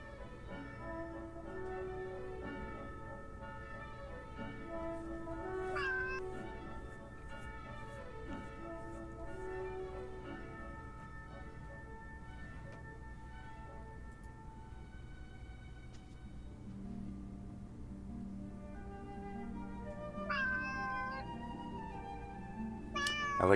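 A cat meows several times, with clear drawn-out calls spread across a steady tonal background.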